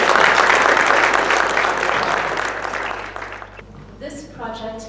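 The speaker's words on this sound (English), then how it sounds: "So we can start with a round of applause for you." Applause from the audience at the closing ceremony of the Elliot Lake Seniors Memories Project, a dense, steady clapping that fills the room and fades out near the end as a voice begins speaking.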